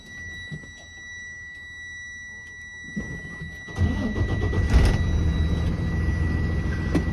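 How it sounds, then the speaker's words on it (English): A truck engine cranks and turns over in neutral, then settles into a steady, rumbling idle close by. "Check my mirrors, nobody's around, and engine on."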